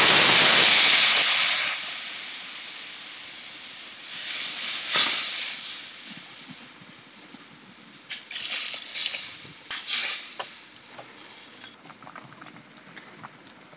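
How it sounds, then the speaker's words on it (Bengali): Water poured into a hot pan of lightly fried potatoes in oil sets off a loud burst of hissing sizzle. It fades into softer crackling and bubbling with a few renewed spurts. "এখন আমি জল ঢেলে দেবো।"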